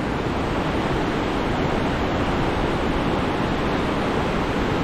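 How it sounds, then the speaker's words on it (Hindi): Rushing water at a forest site near a pilgrimage area, a loud continuous broadband roar that stays constant and steady throughout with no voices. "पानी की आवाज़ देखिए आप सुन सकते हैं।"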